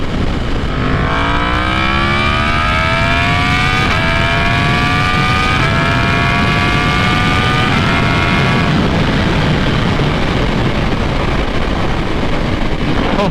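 A 2018 Yamaha MT-10 motorcycle accelerating hard, its engine note climbing through gears with brief shift dips, loud and close over heavy wind roar that continues after the engine fades.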